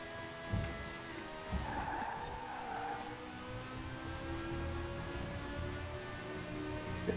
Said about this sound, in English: What, this car? This car sounds cool.